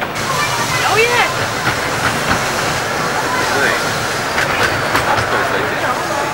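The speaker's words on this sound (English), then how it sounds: "We're now departing Romney and going down to the next stop at Romney Sands." A Romney, Hythe and Dymchurch Railway miniature train pulls out of Romney station during a 1998 gala, giving a loud, close rush of rolling wheels and rattling carriages with rhythmic clickety-clack and brief squeals.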